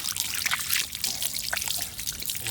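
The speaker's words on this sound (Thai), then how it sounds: "ล้างน้ำสะอาดครับ" A large eel being rinsed in clean water produces close, continuous trickling and splashing, with small irregular pours and drips throughout.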